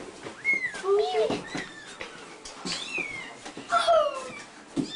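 A small kitten mews several times in thin, rising cries, mixed with nearby human chatter and soft handling noises.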